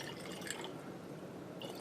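Water is poured into a lab container of sodium bicarbonate, making a steady, soft, close trickling splash that lasts the whole short moment.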